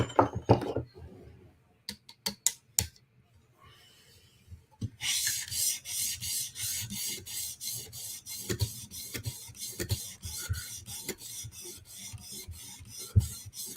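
A knife blade is drawn across a 400 grit sharpening stone in steady, repeated rasping strokes, starting with a few scattered scrapes and settling into a quick even rhythm, close and fairly quiet with no talking.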